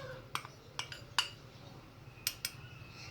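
A spoon clinks against a bowl while cocoa cake batter is stirred, several sharp separate taps spread unevenly over a few seconds, fairly quiet with no speech.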